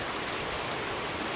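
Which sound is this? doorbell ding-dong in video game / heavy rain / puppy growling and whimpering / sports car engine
heavy rain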